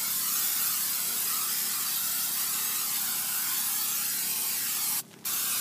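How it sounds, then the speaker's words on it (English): An aerosol can sprays adhesive onto Armaflex insulation for an air handler, a steady close hiss lasting several seconds with a brief break near the end. "Now I'm going to spray my Armaflex too."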